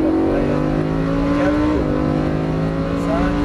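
A sports car engine accelerates hard on the Circuit de Bresse track, a loud sustained rising whine with a brief dip near the middle as a gear changes before climbing again.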